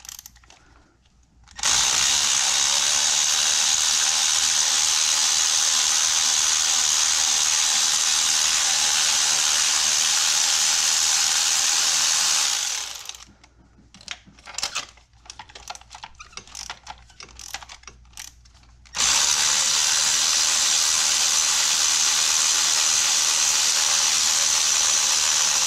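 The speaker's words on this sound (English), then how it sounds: "You'll know it's released when the ratchet goes from moving at like a medium speed and the speed picks up" A ratchet loosens a spark plug on a BMW X5 with the N55 engine, giving long runs of loud, rapid clicking, broken by a stretch of slower, separate clicks with pauses between them.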